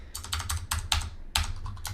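A computer keyboard is struck in a quick burst of sharp, close key presses: a short shortcut combination typed in an uneven rhythm with brief gaps, and no talk.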